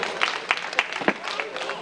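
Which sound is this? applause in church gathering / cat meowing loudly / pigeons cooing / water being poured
applause in church gathering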